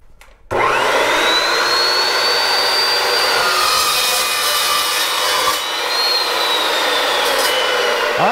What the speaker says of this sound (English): now I'm going to make a miter cut on the end of this square tube